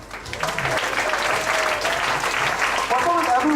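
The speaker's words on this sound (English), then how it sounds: "An applause." Audience applause at a PechaKucha night at Betelnut in Ubud, Bali, as the fourth speaker comes on stage: steady, dense clapping through the whole stretch, with some voices mixed in beneath it.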